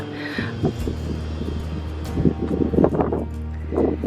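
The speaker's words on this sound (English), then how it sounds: "It's gonna be hard to hear me because of the wind" Wind blowing steadily outdoors at a cottage yard, a continuous low rumble with gusts swelling louder toward the end, buffeting the microphone while faint talk sits underneath.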